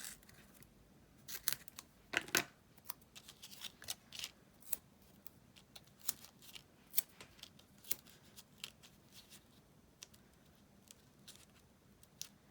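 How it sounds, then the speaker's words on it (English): Foam tape is handled, cut and pressed onto a handmade card, giving close, quiet snips, clicks and soft tapping in an irregular pattern, with no talking. "now I'm gonna grab some of my foam tape and just add a few portions of dimension onto this card"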